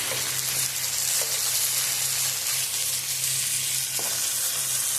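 Fish frying in a pan of medium-hot oil, one side already cooked and flipped, gives a steady close sizzle with bubbling hiss that runs unbroken throughout and carries a few faint clicks.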